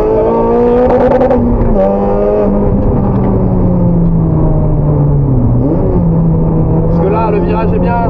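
A 400 hp Honda Civic with a short rally gearbox accelerates hard on the road, its loud engine note climbing through the revs and dipping briefly at a gear change, with someone talking over it.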